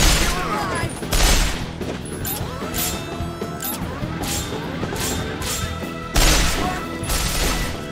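In a video game, a shot barrel explodes with heavy booming crashes, a few of them spread over several seconds against a busy, noisy game background.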